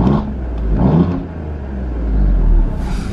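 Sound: Alfa Romeo Giulia Quadrifoglio engine revving in race mode

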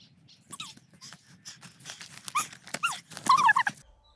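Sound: dog

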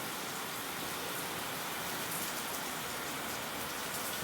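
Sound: heavy rain falling

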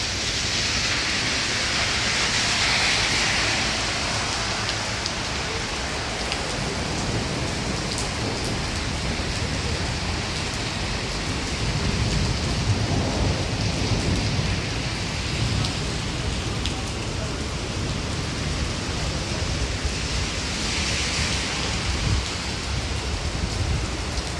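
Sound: heavy rain with thunder

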